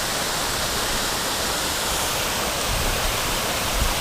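A waterfall in Skútudalur valley, Iceland, gives off a steady, dense roar of rushing, splashing water, broadband and continuous, with no voices over it.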